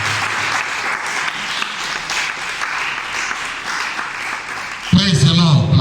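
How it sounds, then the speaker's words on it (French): A church congregation claps loudly and steadily in a dense, sustained burst of applause for about five seconds, then a speaking voice cuts in over the fading clapping near the end. "Acclamons très fort le roi des rois."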